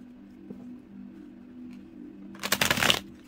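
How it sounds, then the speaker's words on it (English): A deck of tarot cards is shuffled during a reading, a quick crisp riffle of flapping cards lasting about half a second after a quiet stretch with a low steady hum. "I'm going to shuffle."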